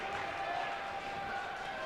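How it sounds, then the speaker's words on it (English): Crowd noise at a high school boys' basketball game, Auburn Maroons at Jamesville-DeWitt Red Rams, a steady roar of voices and scattered applause filling the gym for the whole moment. "And the crowd pipes up"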